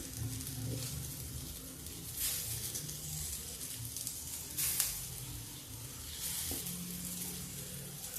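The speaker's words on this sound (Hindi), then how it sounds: "अब इसको मैं हल्का सा इसको भी भून लेती हूँ इसी मेवा के साथ" Barnyard millet rice being roasted with dry fruits in a pan for a fasting-day kheer, giving a steady close sizzle with occasional stirring scrapes and no talking.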